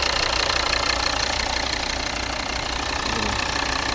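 A Volvo D5 2.4-litre diesel engine idles steadily at close range, a continuous even rumble with a faint knocking texture and no voices.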